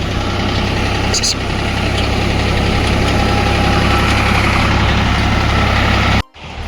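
A diesel farm tractor idles loudly and steadily nearby during grass-clearing work, a constant low rumble with a brief sharp clatter early on, cutting off abruptly near the end.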